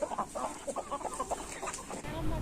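Country chickens and a rooster on a small poultry farm cluck and squawk in a busy, overlapping chorus, close to the listener and continuing throughout.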